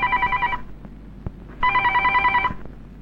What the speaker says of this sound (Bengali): টেলিফোন বাজে শোনা পারস না?